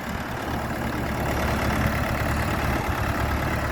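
Orion RF-404 mini tractor from 2023 with reverse gear, its engine running at a steady idle, a continuous close rumble that holds at an even level throughout.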